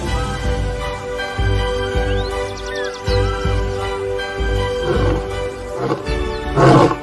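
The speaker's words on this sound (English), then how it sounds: "roars can reach 114 decibels, louder than a jackhammer" Male lion roaring in the African bush near the Luangwa River, deep repeated rumbling roars spread across several seconds, with a loud burst near the end over a steady outdoor background.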